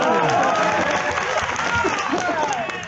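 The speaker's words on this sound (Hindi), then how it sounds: "आपने ताली वाली बजाई ना उनके लिए।" Crowd at an outdoor political rally in Badarpur claps and cheers loudly and continuously, a dense wash of applause with excited voices mixed in throughout.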